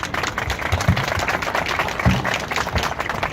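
Wedding guests applauding at a Turkish civil marriage ceremony led by a theatrical officiant: a dense, steady round of clapping from a gathered crowd, fairly loud and continuous throughout, with no talk over it.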